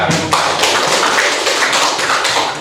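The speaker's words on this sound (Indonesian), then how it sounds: "Oke, kita beri aplaus untuk BK." An indoor audience at a teachers' training session claps, a dense, loud, continuous patter of applause from many hands without pause.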